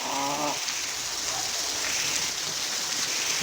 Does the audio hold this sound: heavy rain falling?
yes